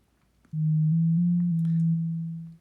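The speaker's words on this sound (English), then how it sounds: "Sine wave is a wave that is very smooth." A single steady, pure electronic sine-wave tone from a phone synthesizer app sounds alone for about two seconds, smooth and unwavering, then fades out.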